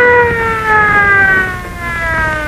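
An emergency siren from an ambulance or police car wails continuously with a sliding, slowly falling tone, loud and fairly close, and no voices are heard.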